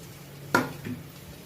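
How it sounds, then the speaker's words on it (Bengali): Egg-battered fish bread pakora drops into hot oil, giving a sharp clink and splash followed by a short burst of sizzling, close and alone. "এবার তেলে ছাড়লাম।"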